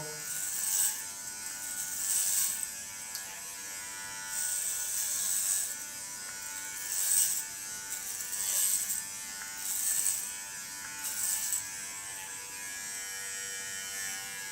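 An electric hair clipper cutting hair during a punk/rock styling, buzzing close by in repeated short bursts of a second or so, separated by quieter pauses, with no talking.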